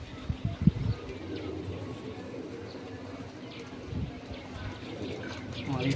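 Pet pigeons of the Andra and Malbai breeds kept at home, cooing softly in low murmurs with some shuffling nearby, while someone talks over them.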